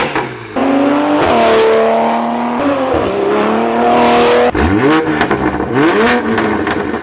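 A Toyota Supra's BMW B58 straight-six revving hard, loud and close, with repeated rising and falling sweeps as the throttle is blipped and released, a brief drop between pulls and no voices.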